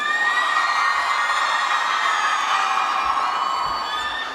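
A large crowd at an international physiotherapy conference in Mangalore cheers, shouts and whoops steadily and loudly throughout, a dense wash of voices with no clear clapping rhythm standing out.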